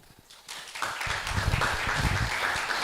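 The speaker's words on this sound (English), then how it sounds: "A healthy round of applause, please, for our panelists." An audience applauds panelists at a careers event on the information and technology industry, a dense wash of clapping that swells after a quiet start and keeps going steadily.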